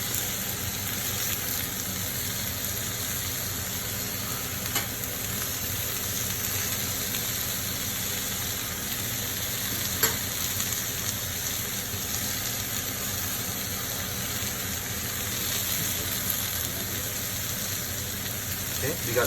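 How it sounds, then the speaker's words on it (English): Tomatoes and spiced barramundi fish sear in a hot frying pan with a steady, even hiss of broadband sizzle that holds unbroken throughout, broken only by a few faint clicks. "As the tomatoes cook down, they will release their own juice."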